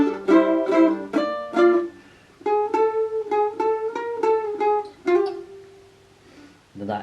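A mandolin plays a melodic phrase from a song, a string of bright plucked notes with short rhythmic runs and a held note, close and clear with no talking.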